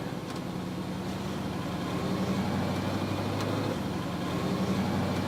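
Steady engine and road drone from a vehicle on a road test after a TH350 transmission shift kit install, a continuous low hum with faint tonal whine heard from inside, fairly constant in level and without talking.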